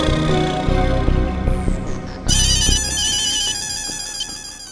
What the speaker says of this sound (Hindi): टप्पू फोन भी नहीं उठा रहा है